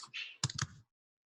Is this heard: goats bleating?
no